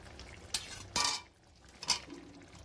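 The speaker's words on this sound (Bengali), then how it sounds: "এবার এতে আমি সেদ্ধ না ভাজা আলুগুলো দিয়ে দেবো একে একে।" Fried potatoes drop one by one into a pan of meat curry, three soft clattering thuds against the metal, faint and close, with quiet sizzling between them.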